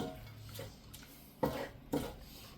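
A utensil clinks and scrapes against a pan while spaghetti carbonara is mixed, with two sharp metallic knocks standing out from quieter stirring, fairly close but faint overall.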